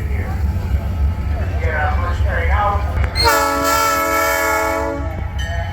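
Wisconsin Central SD45 diesel locomotive number 7525 sounds its horn loudly and up close in a steady multi-tone chord for about two seconds, after a stretch of idling engine rumble with a voice talking over it.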